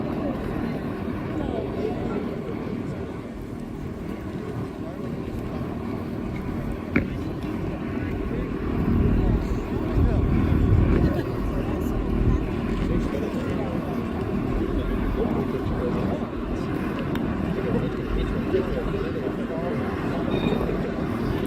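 A Joby S4 eVTOL aircraft flies past at the 2025 California International Air Show, accelerating away and descending, heard as a steady distant broadband hum that swells midway and then holds.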